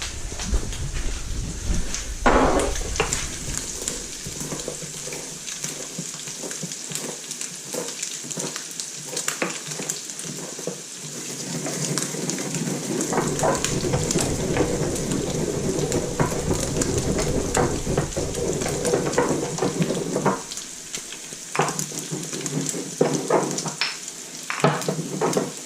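Ground beef for tacos browning in a hot pan, a steady loud sizzle and crackle that runs throughout, with occasional scraping and stirring knocks from a utensil.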